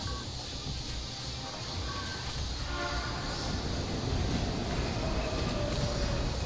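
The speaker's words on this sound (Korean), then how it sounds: "이 열차가 다시 떠나기 전까지 타야되나?" Train rumbling into a station in the Teenage Mutant Ninja Turtles: Mutants in Manhattan video game, a steady loud rolling roar with rising rumble and faint tonal squeals, no talk over it.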